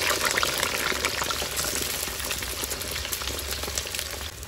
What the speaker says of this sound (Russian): в разогретое ароматное от лука масло отправляем картошечку